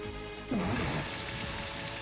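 The Rain Dance move in a Pokémon video game brings a steady hiss of falling rain that starts partway in and holds at an even level, with a soft tonal sweep near its start.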